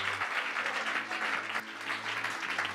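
Church congregation clapping hands steadily together during worship, a dense, even patter of applause that holds throughout.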